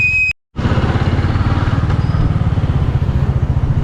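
Motorcycle engine idling steadily and loudly up close, a rough rhythmic putter that starts after a brief cut, with several bikes gathered at a ferry stop on a night ride toward Gokarna.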